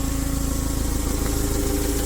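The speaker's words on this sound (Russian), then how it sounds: "Выхлоп минус 15 у нас сегодня, сейчас его запустил, в принципе, без каких-либо проблем" A Japanese Mitsubishi FG15 1.5-ton forklift idles steadily just after a cold start at about minus 15 degrees, its engine loud, close and evenly pulsing, with no talk.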